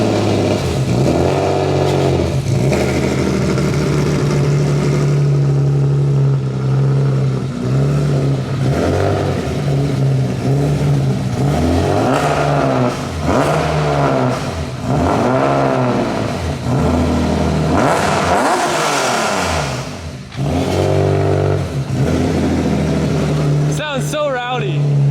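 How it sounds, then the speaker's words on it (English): A drift car that sounds like a race car revs hard, its engine rising and falling in repeated swells close by for most of the stretch, with voices talking over it. "It sounds like a proper race car."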